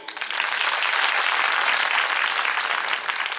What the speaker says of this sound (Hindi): तो खुद के लिए ताली बजाएं।